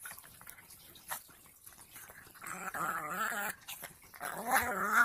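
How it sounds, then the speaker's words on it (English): Dogs growling and snarling as they fight, close and fairly loud, with a rumbling growl that grows denser and more continuous toward the end. "Ain't no more vicious dog fight."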